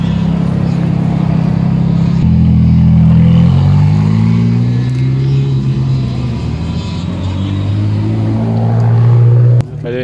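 Ferrari 430 Scuderia engine at an Italian car meeting, a loud sustained rumble whose pitch steps up and down through several revs, then cuts off sharply near the end.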